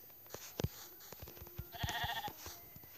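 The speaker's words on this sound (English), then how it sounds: "But I found one sheep" A sheep in a survival video game gives a short, faint bleat partway through, with a few soft game clicks and taps scattered around it.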